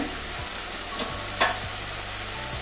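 Spice paste frying in oil for a katla fish curry, a steady close sizzle with repeated scraping stir strokes and a brief clatter midway.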